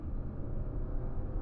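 A 2026 Subaru Outback's 2.5 engine drones as a low, even rumble heard from inside the cabin while driving on an open road, with no voices over it.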